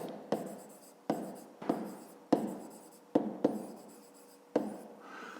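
Hand writing on paper, probably with a pen: a series of separate scratchy strokes, each starting sharply and then trailing off, at an uneven rhythm. They are close and fairly quiet, with no voice.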